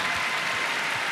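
Applause from a convocation audience honoring economist Dr. Art Laffer, a dense, steady wash of clapping filling the hall at full volume throughout, with no speech over it.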